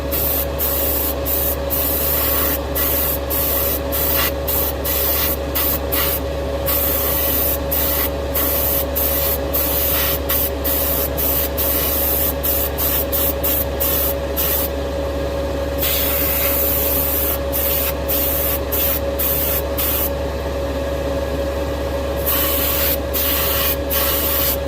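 Heavy coats of spray paint go onto the body of a 1969 Dodge Charger R/T held close for full coverage, a steady loud hiss with a constant compressor-like hum beneath and frequent brief pauses between passes.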